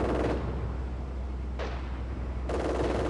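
Machine gun fire in the Company of Heroes Stalingrad battle, loud sustained bursts at the start and end with a short burst in between, over a continuous low battlefield rumble.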